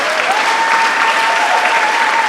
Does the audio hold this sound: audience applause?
yes